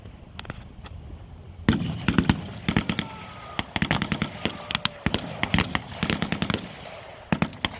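Rapid bursts of gunfire as German soldiers open fire on an Allied reconnaissance force in the Normandy countryside during WW2. The shots come as sharp cracks, first sparse and then in dense irregular volleys, loud and close.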